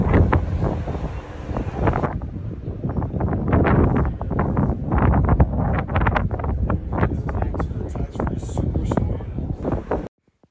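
Strong, cold wind on a ship's deck buffets the microphone in a loud, continuous, gusty rumble with sharp bursts, then cuts off abruptly at the end.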